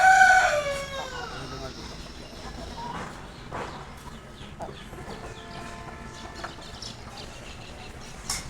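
On a farm, a rooster crows once loudly up close at the start, then hens cluck and chatter softly over quiet background noise, with a few faint sharper calls later.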